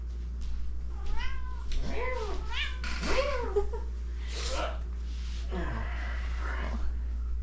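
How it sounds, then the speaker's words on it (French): A vocal house cat meows several times in a row, close by, with drawn-out rising and falling cries over a steady low hum and faint background sounds. "Ça fait différent d'avoir un chat vocal."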